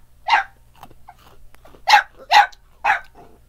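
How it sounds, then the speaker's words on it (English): Several loud, close dog barks, one early and then three in quick succession near the end, with quiet pauses and soft breathing sounds between them. "You're complaining about the doggies."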